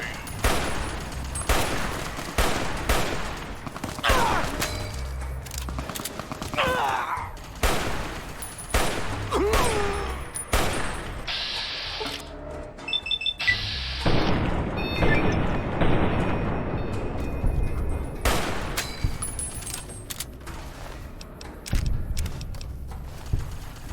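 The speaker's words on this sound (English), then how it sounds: "Sounded like a grenade going off." A grenade goes off amid Fallout: New Vegas combat: sharp bursts and booms of gunfire and blasts scattered through the scene, moderately loud, with little talk.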